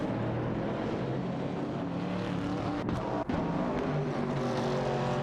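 Engines of a 1969 Chevrolet Camaro and a Mercury Cougar battling in a racing video game, a steady loud drone of revving motors with layered harmonic tones and a brief dip midway.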